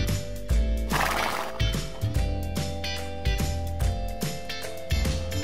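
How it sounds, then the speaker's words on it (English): A horse neighs loudly over bright background music, a whinny cry standing out clearly near the start, with steady musical beats continuing throughout. "horse"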